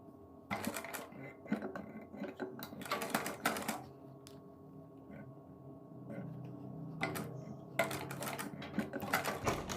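Sewing machine stitching a neck strip onto a kurti, running in several bursts of rapid mechanical chatter with short pauses between, moderately quiet and close.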